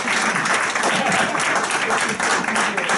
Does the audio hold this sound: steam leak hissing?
no